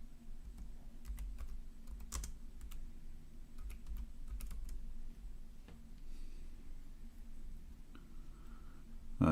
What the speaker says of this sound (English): Oh, we are typing in English.